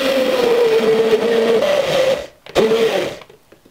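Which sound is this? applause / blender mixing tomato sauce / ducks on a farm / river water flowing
blender mixing tomato sauce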